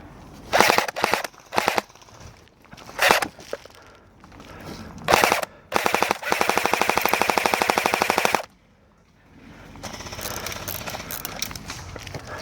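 Airsoft guns fire outdoors during a game on a farm, with short bursts and rapid strings of sharp, clattering shots, one long burst mid-clip, then quieter rustling and ambient movement.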